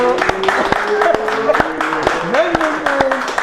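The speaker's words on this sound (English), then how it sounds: "Give yourselves a round of applause" Podcast audience applauds in a small room, sharp irregular claps from a few people scattered over a steady murmur, with someone talking over the clapping.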